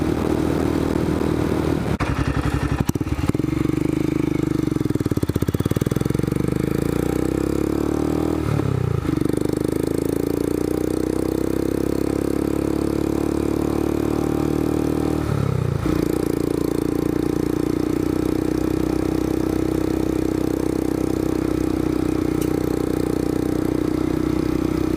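A Scram 411 motorcycle engine runs with a loud, steady exhaust drone and a buzzing mid-range tone, with a few brief clattering scrapes along the way.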